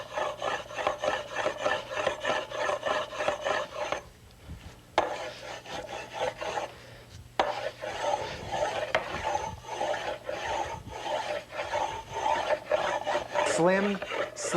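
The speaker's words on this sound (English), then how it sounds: "You see how all this grain is coming out as I'm rubbing?" A hand rubs along the grain of a wooden chaise, making rhythmic, close, raspy strokes that repeat steadily, with two short pauses partway through.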